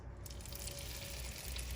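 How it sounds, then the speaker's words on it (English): Bone-in Cajun-seasoned chicken thighs sizzle in a hot frying pan, a soft, steady crackling hiss running through the brief moment. "we're just gonna place our chicken inside of our frying pan"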